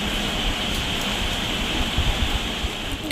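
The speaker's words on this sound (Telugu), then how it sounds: "వర్షం అయితే స్టార్ట్ అయిపోయింది సో వర్షం ఫుల్ పడుతుందండి" Heavy rain pours outside at night in a dense, steady hiss that fills the whole stretch, with no voices.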